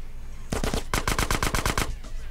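Gunfire from a weapon in GTA San Andreas, a quick run of about a dozen loud, evenly spaced shots fired in rapid succession, close and dominant, with a couple of scattered shots just before.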